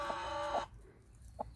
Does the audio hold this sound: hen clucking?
yes